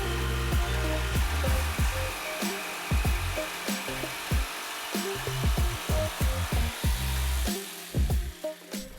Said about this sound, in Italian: Con il solito seghetto alternativo, successivamente si provvede a dare al lato la sua forma approssimativa.